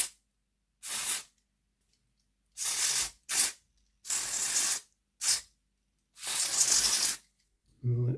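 Short bursts of aerosol spray scooshed onto a Bachmann Class A4 model locomotive during an overhaul, five or six sharp hissing blasts of varying length separated by silence, close and fairly loud.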